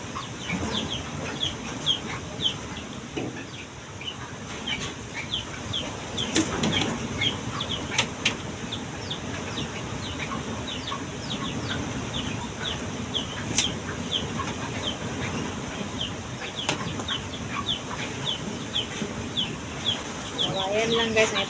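Chickens clucking around a rural hut, scattered sharp clucks and calls near and far over a constant outdoor background, with people talking at times.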